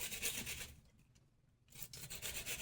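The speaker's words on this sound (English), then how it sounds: "If your onion doesn't fall apart in the grating process" Onion being grated by hand in a kitchen, soft close rasping strokes in a rhythmic back-and-forth with a brief pause mid-way, quiet and without talk.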